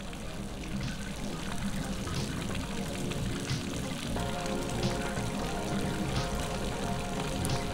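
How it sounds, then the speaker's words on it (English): Faucet water runs steadily in a video game, a continuous pouring trickle lasting throughout at moderate level, with faint room noise beneath. "I did use the faucet."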